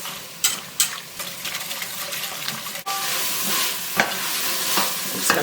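Milk sauce for homemade condensed soup stirred in a hot pan, a steady soft sizzling hiss with scraping stir strokes and a few louder clicks of the spoon, close and continuous with no talk.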